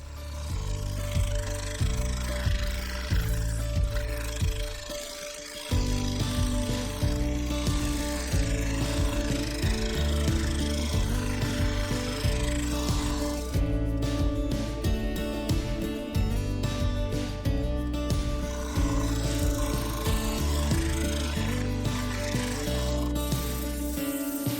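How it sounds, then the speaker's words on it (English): Continuous rough rubbing and scratchy friction as a wooden bowl is sanded on a lathe, over a steady motor drone, with a short break midway before the whirring abrasion resumes, close and loud. "Then I sanded from 80 to 3000 grit."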